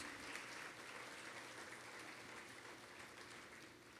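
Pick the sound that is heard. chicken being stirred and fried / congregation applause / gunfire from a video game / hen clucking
congregation applause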